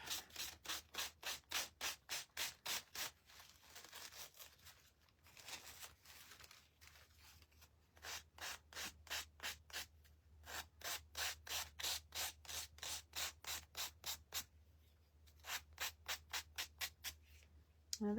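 A small sanding block rubs back and forth over a wooden bird craft piece, quiet rhythmic scratchy strokes in fast regular bursts with short pauses between sets, close by and alone.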